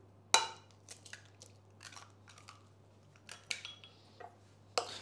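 An egg is mixed into a vegetarian meatball mixture, giving quiet, scattered clicks, scrapes and soft squelches from a utensil working through a bowl, with one sharper knock near the start.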